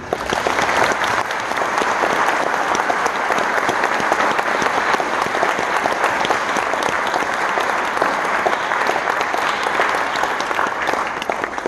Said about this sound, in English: let's take this opportunity now to give them a big round of applause